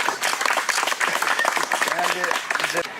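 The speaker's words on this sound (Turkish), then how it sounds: "Alkış." A small group claps briefly during a pizza-making event, quick irregular claps with voices talking over them throughout.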